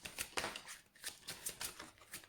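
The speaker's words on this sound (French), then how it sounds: "le brassage, je veux dire, de cartes" Tarot cards being shuffled close up, a quick run of soft riffling bursts in a fairly even rhythm at low volume.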